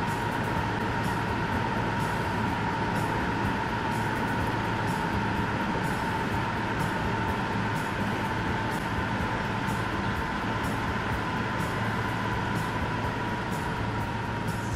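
Subway train running in Transport Fever 2, a constant droning rail rumble with a steady mid-pitched tone and faint rhythmic clicks, unbroken and even in loudness throughout, no speech.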